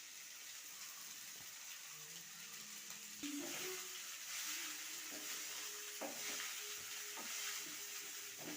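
Drained soaked flattened rice (chira) cooking in a pan for chira pulao, a soft steady sizzle with faint scraping of stirring and a few light clinks, quiet and close, no talk.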